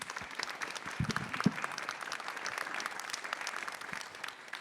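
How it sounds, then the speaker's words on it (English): A conference audience gives a panel a round of applause, a moderate burst of many hands clapping in a room, dense and even, then tapering slightly. "If we can give them another round of applause."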